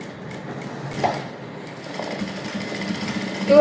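A sewing machine stitches a princess cut blouse in a steady, close whir that swells louder at the very end.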